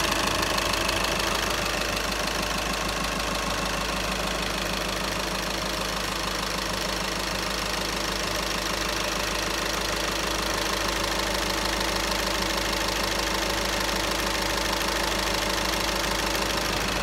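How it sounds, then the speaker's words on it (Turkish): A VW Golf 6 engine with a transmission noise fault runs steadily at idle, a close, even hum carrying a rhythmic knocking pulse, with no talk. "Çalışmış halini gösterelim."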